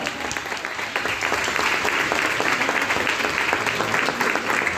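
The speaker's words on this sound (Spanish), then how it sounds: "¡Un aplauso!" An audience at a presentation of a young woman accordion player in Magangué breaks into sustained, even applause, dense clapping holding steady throughout with no talk over it.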